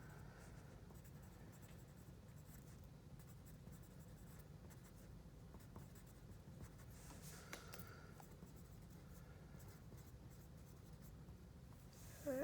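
A pen scratches steadily across paper while someone writes atmospheric science notes. The sound is a faint, continuous close-up scratching that runs unbroken for about twelve seconds, with slight pauses between strokes.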